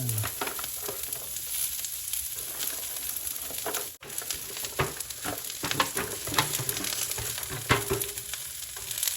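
Cabbage frying and sizzling in a hot pan for lumpiang prito, a steady bright hiss with scattered pops and stirring scrapes throughout, fairly close and continuous, with a brief drop in the middle.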